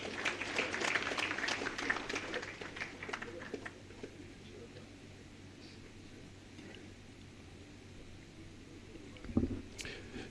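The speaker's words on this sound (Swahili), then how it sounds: "Tuwapigie makofi mengi sana." A burst of applause from a crowd at a ceremony presenting certificates of congratulation, loud at first and thinning out over several seconds, followed by quieter room noise and a brief thump.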